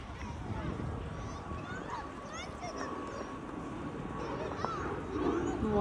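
Big geese honk now and then at a distance outdoors, faint calls mixed with other bird sounds, while a person talks softly nearby.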